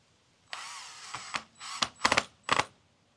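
Mounting screws for a solar street light are driven in, producing several short, close whirring and rattling bursts separated by brief pauses, with no talking.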